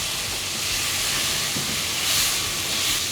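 Tomato puree cooking directly on a hot pan surface for a Guinness beef stew gives a steady, even sizzling hiss that holds for a few seconds with no talking.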